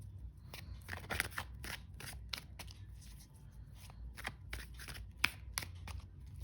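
Tarot cards being shuffled by hand during a weekly horoscope reading, a steady run of soft riffling snaps and papery flicks, fairly quiet and close, with no talking.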